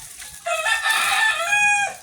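A rooster crows once nearby, a loud, drawn-out call lasting about a second and a half over a quiet background.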